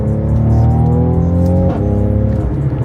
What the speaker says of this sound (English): One of my favorite things about this car, besides the carbon fiber console, is the exhaust.